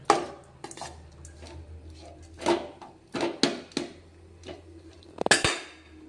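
A spoon scrapes and clanks against a pan while fried cashews and garlic are tossed with coriander, a series of close, irregular metallic knocks and scrapes, the sharpest near the end, with no speech.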